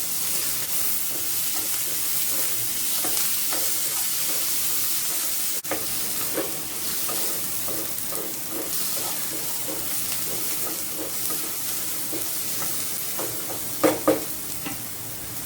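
Onion, tomato and coriander leaves sauté in a pan for ivy gourd chutney, giving a continuous loud sizzle with repeated scraping stir strokes throughout and a couple of sharper knocks near the end, no voices.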